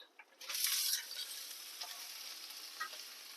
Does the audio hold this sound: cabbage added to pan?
yes